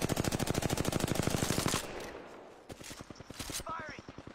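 Rapid automatic gunfire from a video game rattles in two sustained bursts separated by a short pause, loud and close, with a faint whistling sweep near the end.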